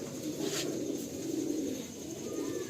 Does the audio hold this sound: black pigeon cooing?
yes